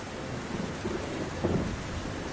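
Thunder rumbles through a heavy rainstorm in a Hindi animated cartoon, a steady wash of rain with a couple of low rolls swelling near the middle, no voices.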